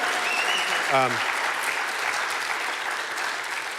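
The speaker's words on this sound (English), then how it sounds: "How about a nice round of applause?" Audience applause fills the room as a steady, dense patter of clapping, with a brief voice near the start.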